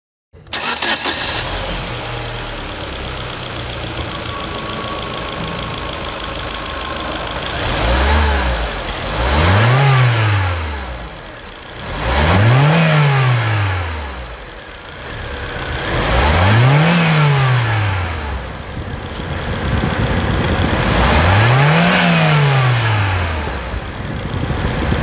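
A 2011 Chevrolet Vectra with a 2.0 gasoline engine cranks and starts, then idles before four distinct revs that rise and fall at a steady rhythm, loud and close with no talk over it.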